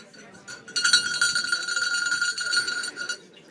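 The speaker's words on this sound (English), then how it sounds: "Ring my bell." A bell rings repeatedly at close range, giving a bright metallic clanging that lasts about two and a half seconds with faint voices beneath it.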